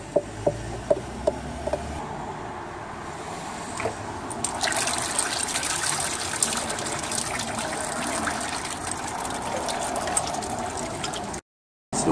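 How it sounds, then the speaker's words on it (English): Transmission oil drains from a Subaru TR580 Lineartronic CVT as its filter comes off, a steady close trickle and gush of liquid that runs on for several seconds after a few sharp clicks at the start. "If you're taking these off hot or even on the ground, you'll get a bit of a surge of oil."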